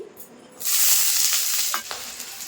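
Chopped onion drops into hot mustard oil and bursts into a loud, steady sizzle, with a couple of stirring scrapes near the end.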